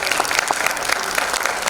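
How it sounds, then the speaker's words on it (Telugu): An audience at a speech event in Ravindra Bhavan, Baina, Vasco, Goa, claps together in dense, sustained applause. It sounds close and loud throughout. "ముందు మూర్తి గారికి ఒకసారి అందరూ గట్టిగా చప్పట్లు కొట్టండి"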